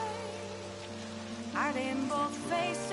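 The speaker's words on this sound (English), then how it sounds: "It's raining." Rain falls steadily in Persona 5 Royal, a soft continuous patter heard at low level beneath layered background music with sustained tones and melodic notes.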